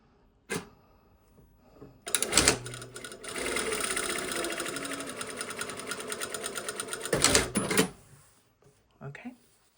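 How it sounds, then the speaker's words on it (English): A sewing machine stitches a half-inch seam on a lined vent, running steadily for about five seconds between brief handling clicks and knocks, with a short bump near the end. "I'm going to sew a 1/2 inch seam allowance."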